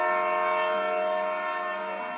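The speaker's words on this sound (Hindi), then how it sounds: "ट्रेन ने हॉर्न दिया और चल पड़ी" A train horn blares in one sustained, loud, harmonic blast as the train pulls away, steady for a couple of seconds and then easing off slightly at the end.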